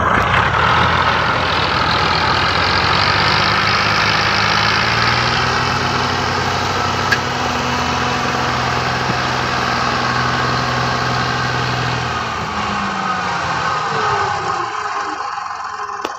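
A 2005 Millat tractor stuck in soft desert ground runs its engine under strain, a loud, steady, low rumbling drone held throughout before easing off near the end.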